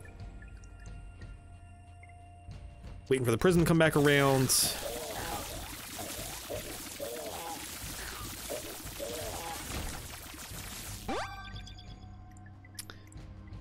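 A watery flushing surge from the room-flush effect in The Binding of Isaac: Repentance erupts loudly, then settles into a long, bubbling rush of draining water under game music, with someone talking over it.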